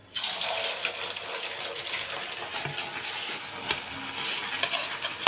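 Rice cutlets dropped into hot oil: a steady, loud hissing sizzle of frying starts at once and holds throughout, with small crackles and pops on top.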